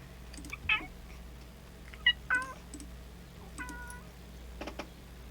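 Domestic cat meowing indoors near a microphone: several short separate meows with rising and falling pitch, spaced irregularly over a quiet background hum, fairly faint and without talk.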